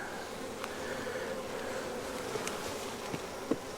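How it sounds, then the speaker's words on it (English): A swarm of honeybees being moved into a bigger hive box gives off a steady, droning buzz close by, with a few faint knocks and taps over the hum. "some of these bees don't want this small of an area"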